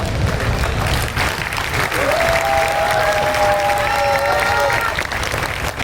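An audience at a live comedy night at a Diwali fair in Lucknow applauds steadily for several seconds, a dense wash of clapping with a few whistles cutting through in the middle.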